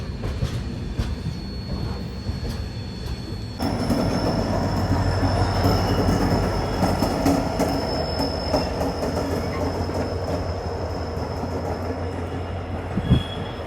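The SMVB Bengaluru to Howrah AC superfast express runs on the tracks with a loud, continuous rumble of wheels and carriages, a thin high squeal riding over it and a brief knock near the end.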